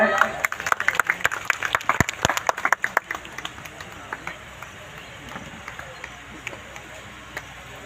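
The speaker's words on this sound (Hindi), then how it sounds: "सभी आप लोग एक बार तालियां बजाएं।" A crowd at a Ramlila event applauds with scattered, uneven claps that are loudest early and thin out into sparse claps over low background murmur.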